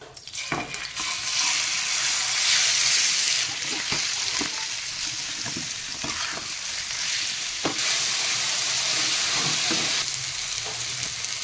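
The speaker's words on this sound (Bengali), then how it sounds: "আমার চিকেনটা হাফ ভাজা হয়ে গেছে" Marinated chicken pieces fry in a pan, a steady loud broadband sizzle holding throughout with occasional clinks and stirring knocks, no voices.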